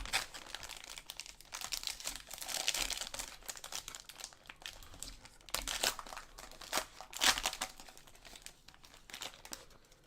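A foil pack of Panini football trading cards is torn open and crinkled close up, with continuous crackling and crumpling that swells in a few louder bursts.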